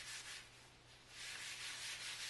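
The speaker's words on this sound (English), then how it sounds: "I rub it into the surface." Chamois cloth rubbing Conte crayon into a drawing surface, a soft, steady hiss of cloth strokes in two gentle swells, very faint and close with a low hum beneath.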